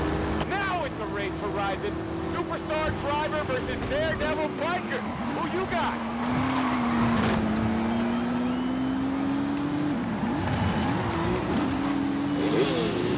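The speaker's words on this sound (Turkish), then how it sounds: "Hadi bakalım taklalar maklalar artistik patinaj hareketler." Motorcycle stunts in Forza Horizon 5, with a droning engine that rises and falls through revs and skids over continuous game sound, as a voice talks throughout.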